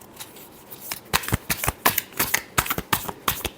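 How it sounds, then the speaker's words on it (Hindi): Tarot cards shuffled by hand in a rapid run of crisp riffling flicks and taps, close and fairly loud, with no talking. "Last shuffle."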